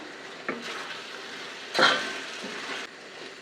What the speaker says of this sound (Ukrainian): Так, перемішуємо.